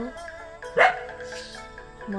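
A dog near a winter terrace garden gives one sharp bark, fairly close, standing out against low steady background sound.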